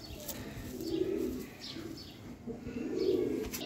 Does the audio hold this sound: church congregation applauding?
no